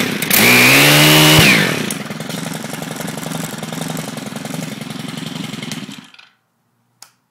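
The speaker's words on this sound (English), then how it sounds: "I was going to explain the Stihl 4MIX engine out to you. It is a 4-cycle engine." A small Stihl 4MIX four-stroke engine on an FS130R trimmer revs loud and high, then drops to a steady buzzing idle before cutting off, followed by a single faint click.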